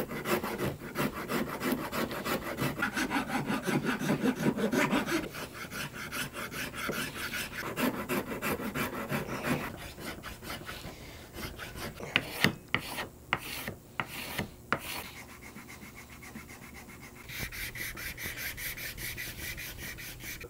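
A flat Iwasaki rasp files a flamed maple and redheart guitar neck in quick repeated strokes, the scraping rhythm steady and close, then broken by a few sharper separate strokes near the end.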